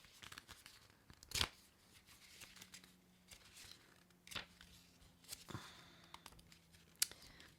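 Pages of a booklet are flipped, heard as quiet papery rustles and a few sharp crisp flicks spread across the clip, close and soft, with no talking.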